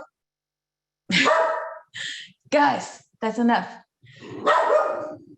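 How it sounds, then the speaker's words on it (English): A household dog barks in loud, separate bursts at someone who has just walked in, several barks spread over a few seconds with a person's voice in between. "the dog's barking at him."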